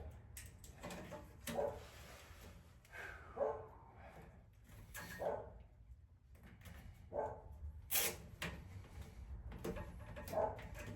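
A neighbor's dog barks repeatedly at a distance, sharp single woofs spaced out over several seconds, with faint shuffling and clatter in a quiet workshop setting.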